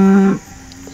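A cow moos near a fence row on a farm, a single loud, drawn-out call that cuts off after a third of a second into quiet outdoor ambience.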